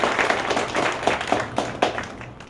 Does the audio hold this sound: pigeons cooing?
no